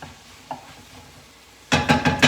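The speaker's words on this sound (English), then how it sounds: "give that a good stir." A spoon stirs Italian wedding soup with meatballs in a pot, a few faint scrapes followed by several louder, rhythmic stirring strokes near the end.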